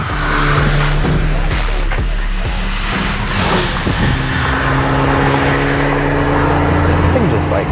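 A 2014 VW GTI MK6 driven hard through turns, its engine loud and close with rising and falling revs over road rumble, while a person talks over it.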